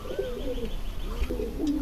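Kaldom Madras pigeons coo close by in a brief run of soft, warbling calls, rising and falling over a quiet, low background hum.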